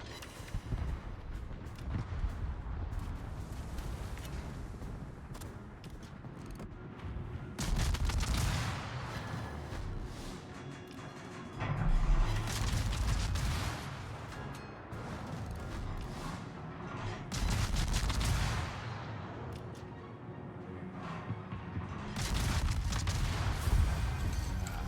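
Naval guns and explosions from World of Warships boom repeatedly, with heavy blasts and rumbling salvos arriving every few seconds over a continuous low battle roar, loud and close throughout.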